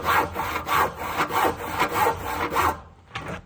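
Handsaw cutting through timber on a building job at an old stone house, about nine quick rhythmic rasping strokes up close before a short pause and one final stroke.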